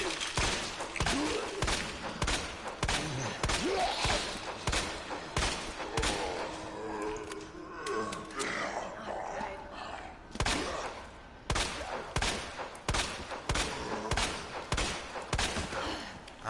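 Rapid gunfire rings out again and again while shooting a zombie in Resident Evil 2 Remake, sharp repeated shots in quick bursts with short gaps, a voice talking faintly underneath.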